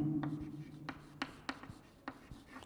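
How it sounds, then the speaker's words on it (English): Writing on a board during a chemistry lecture gives a series of short, scratchy strokes at an uneven pace. They are fairly quiet, with a low hum underneath. "now let me write in a reverse manner"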